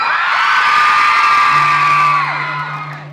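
A large concert crowd at a singer's show erupts in loud whoops and cheers that swell at once and hold strongly for about three seconds before easing slightly, with high shrieks over a broad roar.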